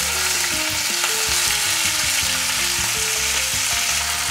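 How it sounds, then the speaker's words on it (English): Choy sum sizzles and crackles vigorously in hot oil in a pan, a loud, close, continuous frying hiss with no speech; a low background tune runs underneath. "Again, oil in the pan. Be very careful. If you have any type of moisture left on your choy sum, you will create a splatter"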